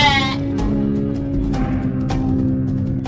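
A lamb bleats in a Hindi story about a wolf and a shepherd's flock: a long, quavering bleat opens the clip, followed by a few shorter bleats over a steady, loud background of sheep calls.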